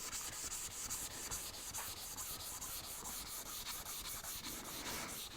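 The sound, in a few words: cutting a chamfer on wood by hand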